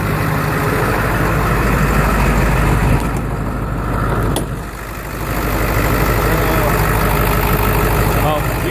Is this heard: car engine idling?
yes